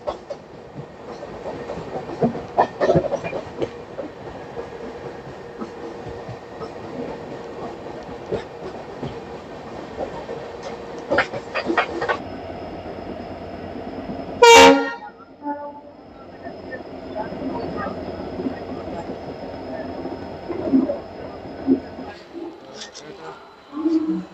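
A Howrah–Mumbai AC Duronto express rumbles past with rhythmic clickety-clack and a sharp, loud horn blast partway through, while people talk nearby.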